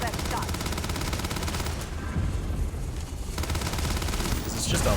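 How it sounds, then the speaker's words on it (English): Combat in the video game Starfield, with rapid gunfire bursts and booming blasts layered into a dense, continuous barrage that briefly thins in the middle and then swells again toward the end. "It's just a lot of explosions going on."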